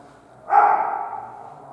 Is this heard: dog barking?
yes